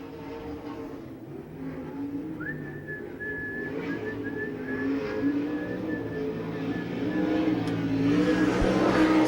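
A USAC sprint car screams around Rossburg's track on a qualifying lap, its engine a steady high whine that slowly swells louder as it approaches, heard alone without talk.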